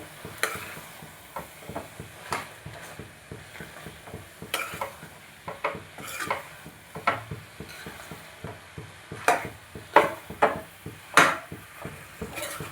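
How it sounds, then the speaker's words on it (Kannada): Cut mushrooms are stirred into cooked tomato masala in a pan, a spoon scraping and knocking irregularly against the pan over a soft sizzle, with sharper clacks growing more frequent toward the end. "ಈಗ ಇದಕ್ಕೆ ಕಟ್ ಮಾಡಿರುವಂಥ ಮಶ್ರೂಮ್ ಹಾಕೋತಾ ಇದ್ದೀನಿ ಇದನ್ನು ಹಾಕಿ ನೀಟಾಗೆಲ್ಲ ಮಿಕ್ಸ್ ಮಾಡ್ಕೋಬೇಕು"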